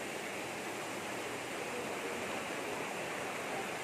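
Clear water flows in a stream near waterfalls on a rural farm lot, a steady, dense rushing wash heard continuously and fairly close with no voices.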